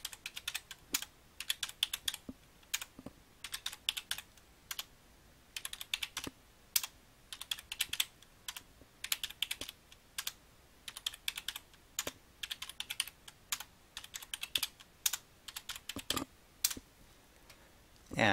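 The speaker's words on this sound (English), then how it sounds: "To type the numbers in" Numbers are typed into a spreadsheet on a computer keyboard, a steady stream of close, crisp key clicks in irregular bursts with short gaps.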